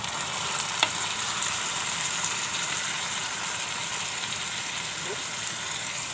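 Chana dal and onion fry in a pan for a raw papaya vegetable dish, a dense, constant hiss of sizzling oil with a couple of faint utensil taps, close and even throughout.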